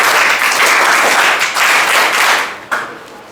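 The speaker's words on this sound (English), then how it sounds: "welcome him with a thunder of applause" An audience gives a teacher a warm welcome at a Teachers Day event with a full burst of clapping that swells, dips briefly, then tails off after a final sharp clap.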